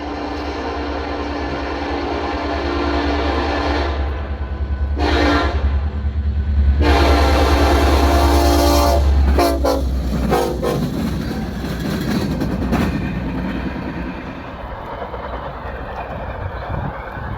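Norfolk Southern freight train A95 passes at Big Hill Cut, its loud horn blaring for several seconds over heavy engine rumble, then giving way to the rolling rattle and clatter of railcars going by.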